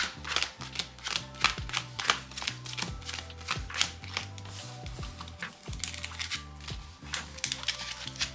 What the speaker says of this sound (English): I'm just going to pile shuffle now, just because a lot of cards are just together